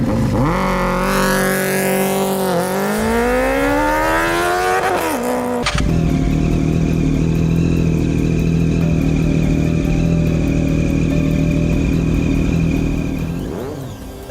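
A motorcycle engine revs and roars up through its gears close by, then settles into a steady, loud drone as it rides along before fading slightly.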